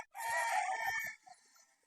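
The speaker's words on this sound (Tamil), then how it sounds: "பாருங்கள், கோழிங்களை சூப்பராக மெயின்டைன் பண்ணுறாரு" A native-breed rooster on an integrated natural farm lets out one clear crow lasting about a second, followed by a few soft clucks, close and alone.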